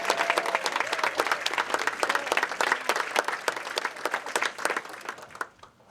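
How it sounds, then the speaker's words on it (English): Sustained audience applause for professional women bowlers at the PWBA Waterloo Open, dense steady clapping from a crowd lasting several seconds before tapering off at the end. "Let's give them a huge round of applause."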